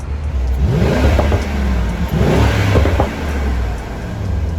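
A Stage 1 Mercedes-AMG GT63 S engine revs hard several times, with rising and falling exhaust roars and a few crackling pops, close by and loud.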